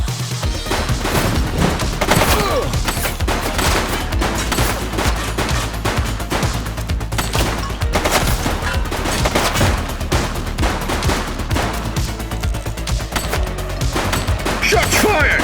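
Dense, continuous gunfire throughout a police shootout in The Precinct, rapid overlapping shots and automatic bursts sounding loud and close for the whole stretch, with game voices mixed in.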